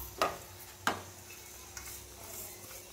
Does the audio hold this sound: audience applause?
no